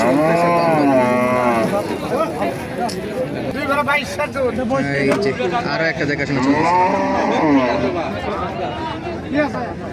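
Cows at a busy cattle market in Raniganj moo repeatedly and loudly from close by, overlapping one another, while people chatter in the background.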